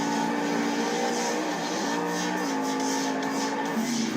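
A monster truck engine roars loudly and steadily during a freestyle run at a Monster Jam stadium show in Arlington, Texas, its pitch climbing and dipping as it revs, with a constant crowd and arena wash behind it.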